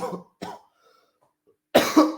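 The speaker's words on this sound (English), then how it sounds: "Non-stop coughing these days." A person coughs twice, short harsh bursts, then a heavier cough with throat clearing after a brief pause, close and loud.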